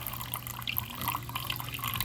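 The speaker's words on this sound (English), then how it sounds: "You pull the tab out. You can drain your water. You can drain it off into there." Water drains from the drain hose of a Samsung washing machine into a catch container, a steady trickling, dripping flow heard close and fairly quiet over a low background hum.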